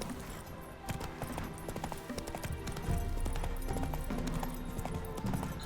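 Roach the horse gallops in The Witcher 3, steady rhythmic hoofbeats thudding under a dense, loud game soundscape, with a brief whinny and a voice speaking to the horse.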